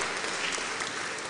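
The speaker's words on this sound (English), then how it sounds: "Please, a round of applause for them." A church congregation breaks into applause at a choir festival, a brief burst of dense, even clapping from many people, fairly loud and unbroken.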